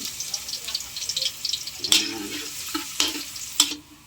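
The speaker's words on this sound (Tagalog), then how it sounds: "Pag mainit na, lagyan ng bawang." Garlic hits hot oil and fries with a bright, steady sizzle, broken by a few sharper clatters of utensil against the pan.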